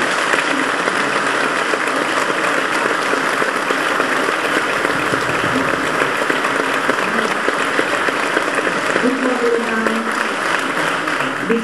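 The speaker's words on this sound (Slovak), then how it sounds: "Ešte jeden potlesk pre manželské páry." Sustained audience applause at a folk ensemble's anniversary show, honouring married couples: dense, even clapping from a large crowd that carries on steadily without a break.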